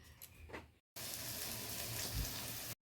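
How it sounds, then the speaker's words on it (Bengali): Bitter gourd slices frying in a pan give a steady, close sizzle for most of the stretch, cut off abruptly at both ends, with a faint earlier fragment of hiss before it. "এখানে উচ্ছে ভাজাটা হচ্ছে"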